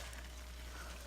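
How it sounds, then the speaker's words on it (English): Hoppin' John with bacon sizzling in a pan, a faint, even hiss held steady for about a second. "It's sizzling good."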